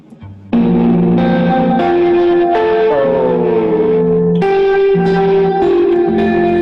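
Electric guitar drenched in washy reverb from a GFI System pedal, notes blurring into each other in a loud, sustained, echoing wash.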